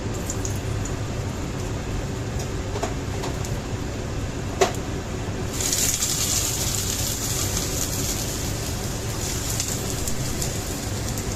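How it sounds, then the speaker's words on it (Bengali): Potato pieces fry in a small amount of hot oil, a dense steady crackle and hiss that turns brighter and fuller midway, with one brief knock; no voices. "তেলটা গরম হলে আলুটা দিয়ে দেবো। এবার আলুগুলো দিয়ে দিলাম।"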